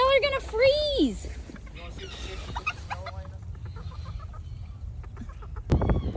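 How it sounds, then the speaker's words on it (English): Roosters calling and clucking outdoors in snow, with a loud crowing-like call at the start followed by scattered softer clucks, under people talking nearby. "Little roosters, y'all are gonna freeze."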